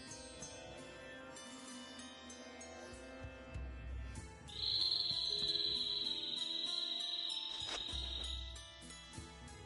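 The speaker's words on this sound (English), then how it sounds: "A bird? In this desert? It sounds close." A bird call in a desert in the video game Tales of Vesperia: a sustained high, thin whistle that holds for about four seconds over soft background music.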